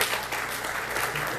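Audience applause in a church-style round-table theology session, a steady broadband patter of many hands clapping at moderate level throughout, with no clear voices above it.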